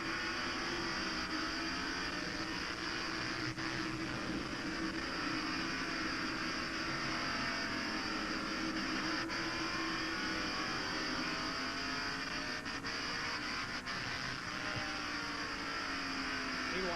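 Stock cars race at the 1990 Tyson Holly Farms 400 NASCAR event, with a steady layered engine roar from several cars at speed and an occasional louder rise as cars pass.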